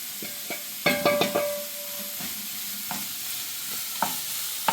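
Beetroot pieces fry in oil for pickle with salt, Kashmiri chilli powder and pickle powder, stirred in a pan with scraping strokes over a steady sizzle.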